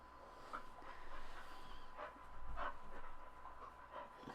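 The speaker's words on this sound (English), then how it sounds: "you hear the dogs panting." Soft, quick panting from dogs close by, rhythmic breathy huffs with a faint whimper, over a low steady background hum.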